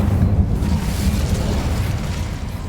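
An Incendio fire spell cast in Hogwarts Legacy, a loud, steady whooshing roar of flame with a low rumble that holds at full strength for the whole stretch, with no talk.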